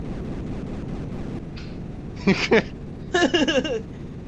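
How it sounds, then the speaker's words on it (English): Repeated bursty explosion blasts from the NES video game Bomberman, a low rumbling bed with a few sharp pops in quick succession, fairly loud and heard alone. "At least it's soothing background music, just constant explosions."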